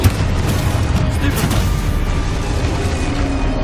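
Confringo fire-spell blasts in Hogwarts Legacy give a dense, roaring explosive rumble with crackling bursts, loud and sustained, while a voice shouts the spell name over it.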